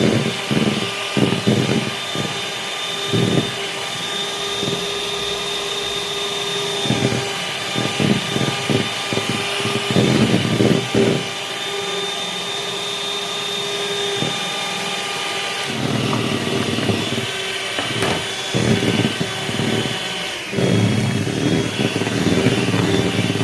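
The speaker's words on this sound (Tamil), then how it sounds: "எக் ஒயிட்டை இந்த அளவுக்கு பீட் பண்ணதுக்கப்புறமா ஒயிட் சுகரை கொஞ்சம் கொஞ்சமாக ஆட் பண்ணி" An electric hand mixer beats egg whites as sugar goes in, bound for a cotton-soft bakery cake. It gives a steady, loud motor whir close to the microphone that pulses and shifts in pitch as the beaters move through the bowl, with no talking.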